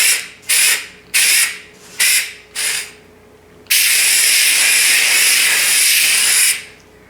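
A Grobell steam cleaner steams a pillow: five short hissing bursts in quick succession, then one long, loud, continuous jet of steam that cuts off abruptly, close up with no talking.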